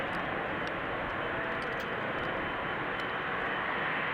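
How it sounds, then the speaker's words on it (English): A KLM Boeing 777 jet holds at the runway threshold at Amsterdam Schiphol, runway 36L, waiting for departure. Its engines give a steady, broad roar that stays constant and fairly loud through the whole stretch. "Currently at the threshold, another 777 from KLM, ready to go in a few moments."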